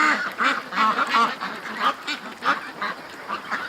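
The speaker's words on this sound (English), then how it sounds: "Ducks are loving the pen." Ducks quack repeatedly in a freshly mown outdoor pen, a lively overlapping chorus of nasal calls at close range with no talking.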